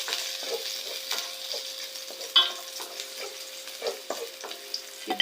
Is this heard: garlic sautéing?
yes